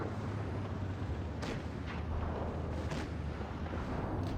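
Tank gun firing an armour-piercing shell in World of Tanks Blitz, a few sharp booms rising from a dense, constant rumble of battle noise.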